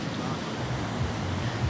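Steady rushing wash of ocean surf on a beach at Pantai Setro Jenar, a continuous low roar with wind, and no clear voices.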